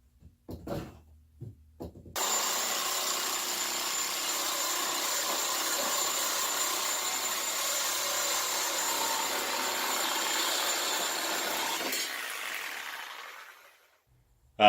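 A power tool cuts rusty metal into two-foot sections, a steady loud grinding whine running about ten seconds after a few short taps, then winding down and stopping.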